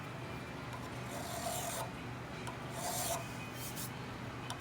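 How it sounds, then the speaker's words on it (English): An old Simmons hand file with no safe edge rasps across metal in long, steady strokes, close and soft, each stroke a broad scraping swell over a constant hiss. "this is an ancient friggin' Simmons file, but it's both sides have, it doesn't have a safe edge."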